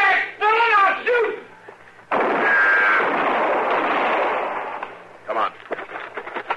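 Gunshot sound effect in a Gunsmoke western radio drama, a sharp blast followed by a long rolling noisy burst, with voices talking before and after.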